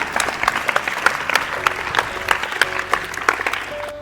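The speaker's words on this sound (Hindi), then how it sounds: "जोरदार तालियों से इसका स्वागत करें" At a school Teachers' Day event, an audience claps loudly, a quick rhythmic beat of many hands, close and steady, with faint music underneath.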